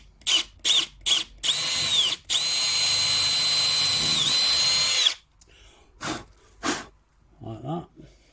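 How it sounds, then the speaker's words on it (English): Power drill boring a hole in the centre of a handmade fox tail piece, several short whirring bursts followed by a long sustained run that pitches down under load, then quiet with brief rustles and a voice. "Drill the hole in the centre."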